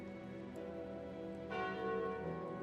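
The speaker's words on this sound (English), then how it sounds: "I think I take the calling bell." The Calling Bell relic in the video game Slay the Spire gives a deep, resonant church-bell toll that swells and rings on with a long, sustained hum, heard alone without speech.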